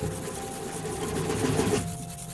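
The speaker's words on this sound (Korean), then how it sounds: "손톱으로 미친 듯이 긁어내는 소리가 나기 시작했어요." Fingernails scratching frantically at a cement floor as a sound effect, a steady rasping, grinding scrape heard close and fairly quiet, running continuously before easing off near the end.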